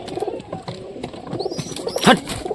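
Pigeons feeding at their nesting spot give soft, low coos close by, with light scuffling and a sharper call near the end.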